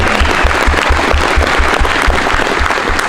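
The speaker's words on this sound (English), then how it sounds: "give them a round of applause" An arena crowd at a mixed martial arts fight card applauds loudly and continuously, a dense roar of clapping with a regular low thumping pulse running underneath.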